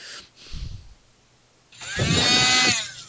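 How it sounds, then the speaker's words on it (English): A loud mechanical whine with a rising motor pitch starts up after a quieter moment and keeps running steadily, close and harsh like a vacuum cleaner. "he started the vacuum"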